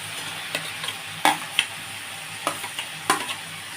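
Potatoes and cauliflower stir-fry in spices in a pan for a cauliflower prawn curry, with a soft, steady sizzle broken by several sharp spatula scrapes and taps. The sound is quiet and close, and no one talks.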